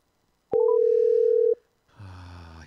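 Phone call being placed: a short blip, then a single steady electronic ringback tone lasting about a second, loud and clean, followed by a brief pause and a low hum.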